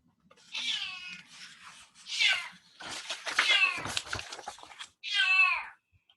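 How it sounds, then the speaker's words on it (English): A cat meows close and clear in four separate drawn-out calls, rising and falling in pitch with short silent gaps between them, heard alone without talk. "Oh, somebody's cat."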